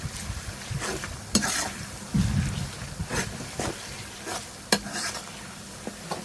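Ginger frying in hot oil for a broiler chicken korma curry sizzles steadily, broken by repeated sharp scrapes and clanks of stirring in the pan.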